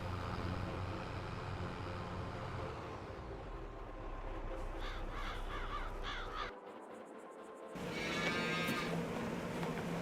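Cows in the Farming Simulator 22 video game, with lowing moos and cawing crow calls over a low steady machinery hum, broken by a brief near-silent gap.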